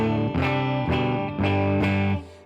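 Electric guitar played through a Tulpa FX Splinter clean boost pedal into a Fender Deluxe Reverb amp, a few warm, bassy sustained chords struck one after another, loud and close with no talking.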